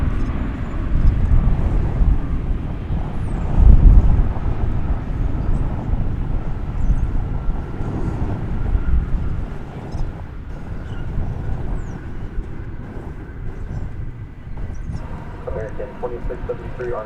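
An airliner rolls for takeoff on runway 18 Left at DFW Airport, and its engines give a steady jet roar that swells and fades at a distance. Radio chatter and voices talk over it.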